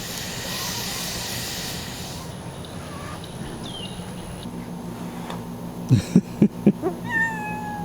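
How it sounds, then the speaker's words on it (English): A cat that has been left behind at a campground meows several times in a quick series of short, fairly close calls toward the end, after a stretch of steady hum and faint background noise. "Clearly a camper brought their cat over and abandoned it here."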